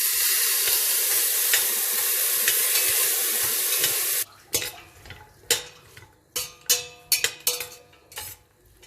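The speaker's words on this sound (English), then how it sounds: "Now you add the cashews into it. This is optional, but it gives a very good taste to the pulao. Now you add the green peas into it." Cashews and green peas hit hot oil in a pan while cooking pulao, a loud steady sizzle that gives way to sharp, repeated stirring clatters of a spoon against the pot.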